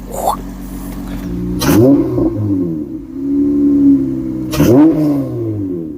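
An Acura TL SH-AWD engine with a 4-inch cold air intake idles and is blipped three times, each rev rising sharply with a breathy intake rush before dropping back, close and loud.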